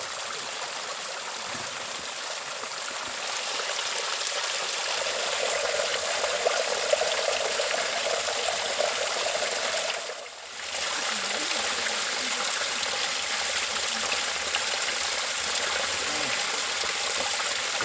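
Creek water flowing steadily along a California mountain backpacking trail, a continuous close rushing and babbling that briefly dips midway, as if a water bottle is dipped in to fill.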